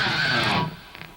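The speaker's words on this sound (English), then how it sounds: "You can't just go ripping at them because they sound like this." Electric guitar pick slide done badly, a harsh ripping scrape: a bright, noisy distorted squeal lasting about half a second, then dropping away to a faint tail.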